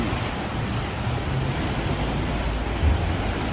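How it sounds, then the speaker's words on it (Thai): Waves wash on the river under the Rama VI railway bridge, a steady broadband rush without pause, mixed with wind buffeting the microphone. "ดูคลื่นนะครับ ดูคลื่น"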